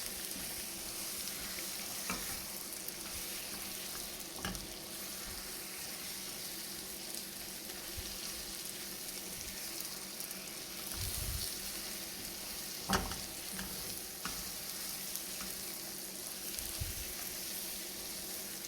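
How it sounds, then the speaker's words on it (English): Sliced bananas fry in a pan for bananas foster, a steady broadband sizzle running throughout with occasional scraping stirs and soft knocks of the spoon against the pan, close and even in level. "We are going to add our bananas. We're going to mix them."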